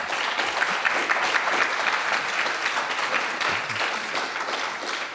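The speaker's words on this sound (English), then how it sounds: "Literally the first time anyone has ever applauded that." Audience applause fills a library talk hall, a dense, steady wash of many hands clapping at close range for the full stretch without letup.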